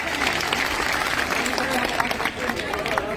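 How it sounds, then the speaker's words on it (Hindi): An audience claps loudly together at a Holi celebration gathering, a dense wash of steady applause that keeps going throughout, with a voice speaking over it. "एक बार जोरदार तालियां।"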